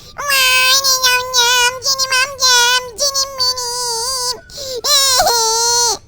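Baby crying sound from the video game Minecraft, a loud, sustained run of wailing cries with short breaks between them, heard alone with no talk.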